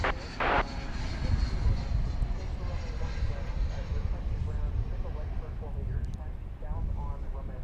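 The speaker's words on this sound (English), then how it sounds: "It's an Airbus A321 coming in from Phoenix" An American Airlines Airbus A321 arriving at DFW airport at night, its jet engines a broad, steady roar that holds throughout, with a voice talking over it.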